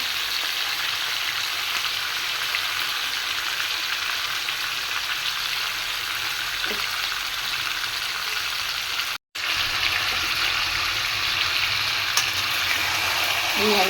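Chicken pieces sizzle steadily as they fry in a pan while being stirred for a lemon chicken dish, a continuous close hiss with a brief break partway through.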